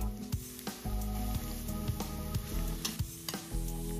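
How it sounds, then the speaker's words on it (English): Onions and garlic stir-fried in a pan for a dish of water spinach with tofu and chicken give a steady sizzle, broken by repeated scraping and clanking strokes of a spatula in an irregular rhythm, close up. "Stir fry until both are fragrant."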